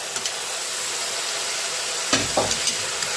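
Courgettes and peppers fry in a Cookeo for a ratatouille, a steady close sizzle with a few sharp clicks and a stir-like clatter near the end, no voices.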